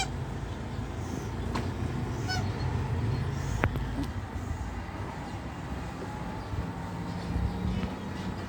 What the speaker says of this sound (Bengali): ওই বড় বড় বড় হাঁসটাকে আওয়াজ করাও না